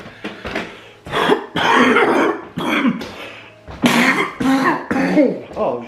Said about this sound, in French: Oh, je tousse comme un cinglé là.